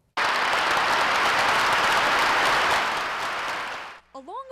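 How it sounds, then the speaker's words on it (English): Long, dense applause from a church congregation giving a standing ovation to a newly ordained Catholic bishop in Marquette, Upper Michigan; steady loud clapping that fades at the end, with brief voices after it stops. "A long applause and standing ovation was the warm welcome for new Bishop John Doerfler"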